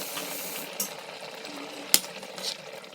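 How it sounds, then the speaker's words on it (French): A spoon stirs mushroom sauce in a pan over low heat, with a soft steady sizzle and a few light scraping clicks against the pan, one sharper tap standing out. "Je continue à remuer."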